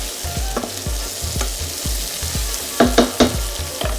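Bacon, garlic and shallots sizzle in a hot pan, a steady close frying hiss broken by regular low knocks and a few sharper clatters near the end.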